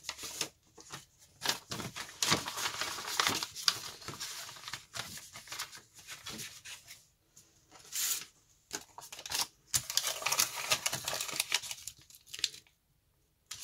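Sheets of paper folded and handled while preparing an art project, giving intermittent close crisp rustles, creases and crinkles in bursts separated by short pauses, with no talking.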